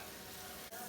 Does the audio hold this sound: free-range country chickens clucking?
no